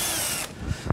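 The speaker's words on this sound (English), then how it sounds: "Simply reposition, slot into place again, and we can drill our second hole." A power drill bores a hole through a guide bush in man-made board, a loud whirring burst that cuts off abruptly, followed by a couple of short knocks as the jig is handled.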